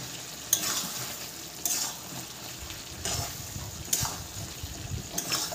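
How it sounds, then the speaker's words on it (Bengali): Chicken pieces sautéing in a pan for chicken curry, a soft continuous sizzle punctuated by a scraping stir roughly every second or so, close and fairly quiet. "দেখো বন্ধুরা, মাংসটা এখনো আর একটু কষানো বাকি আছে।"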